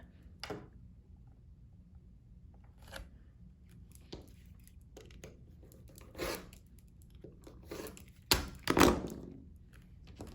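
Fabric for a sawtooth star quilt block being cut, with sparse, soft snips and clicks scattered across a quiet room, a few louder cuts and thumps clustered near the end.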